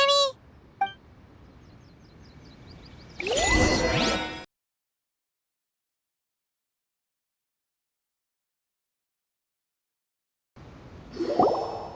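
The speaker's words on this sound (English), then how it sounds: "Indeed, this is the cleansing bell." A cleansing bell in Genshin Impact gives off a bright metallic ding with a ringing tone, then a swishing sweep, a long silence, and another short burst of chiming shimmer near the end.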